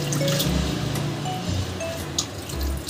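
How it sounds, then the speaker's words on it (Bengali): Soaked potatoes are squeezed out of cold water by hand, giving soft, close trickles and drips of water falling back into a bowl in short bursts. "এবার আমি জল থেকে আলুগুলোকে চেপে তুলে নেব।"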